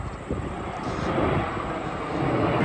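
A steady, broad roar of a jet airplane passing overhead, slowly growing a little louder, with no other sounds.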